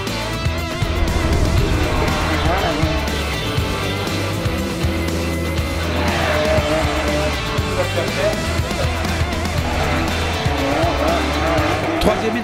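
Porsche Carrera Cup race cars roar at a race start at Magny-Cours, loud engines and squealing tyres blending into a dense, continuous racket with a commentator talking over it.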